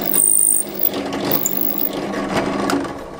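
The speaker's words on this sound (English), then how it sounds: "And drill all the way through." Power drill boring a 4mm hole through a knife handle at the tang, a close buzzing motor with grinding, rattling texture, louder at first then steady as the bit cuts through.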